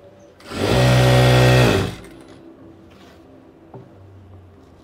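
A sewing machine stitching a small underskirt, one loud close burst of fast whirring lasting about a second and a half, followed by quieter handling noises and a light click.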